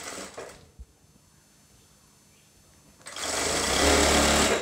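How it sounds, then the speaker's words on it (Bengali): A sewing machine running double rows of stitching along the shoulder seam of a round-neck maxi dress: a faint tap, a quiet pause, then a loud, steady mechanical whir starting near the end. "এখানে আমরা দুইটা করে সেলাই দিয়ে নিচ্ছি শোল্ডারে"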